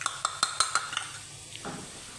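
A metal spoon scrapes and clinks against a cooking pot as chilli, red chilli, turmeric, crushed cumin and dried coriander are stirred for aloo matar, about six quick close taps followed by a soft scrape.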